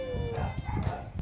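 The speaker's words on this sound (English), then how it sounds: "I never heard him like howl like that." A dog howls outside with a wavering, drawn-out cry, joined by some barking and scuffling, while a person talks over it.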